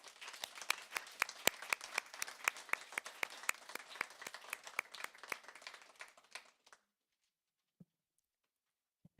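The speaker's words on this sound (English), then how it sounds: "let us give everyone who is here this evening another round of applause" An evening school board meeting audience claps in a dense, lively round of applause that runs several seconds, then stops abruptly and leaves near silence with a couple of faint knocks.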